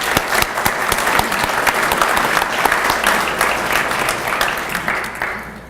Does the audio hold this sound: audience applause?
yes